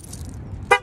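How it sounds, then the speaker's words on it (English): A single short car horn toot near the end, close and fairly loud over a low idling rumble, with no talking. "honk the horn"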